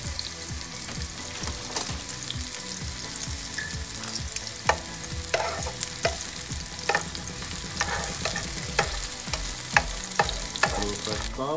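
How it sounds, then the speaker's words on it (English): Asparagus sautéing in a hot pan, charring as it fries: a steady close sizzle with repeated sharp clinks and scrapes of stirring throughout, no voices. "get nice and hot so you can saute our asparagus"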